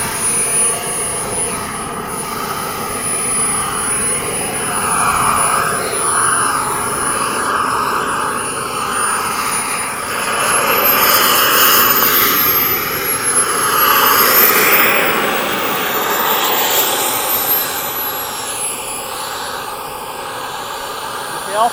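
An HSD Super Viper RC model jet spools up for takeoff at a flying field, a steady roaring turbine whine that swells and fades as it passes, with people talking over it.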